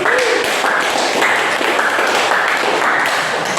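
Steady, dense clapping from a classroom audience applauding a student presenting group, loud and sustained throughout with no talk over it.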